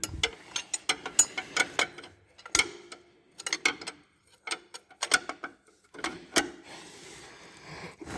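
Socket wrench turning a 15 mm bolt while fitting the belt tensioner during alternator replacement on a Mercedes-Benz B 180, heard as bursts of close ratcheting clicks and metallic rattles with short pauses between strokes.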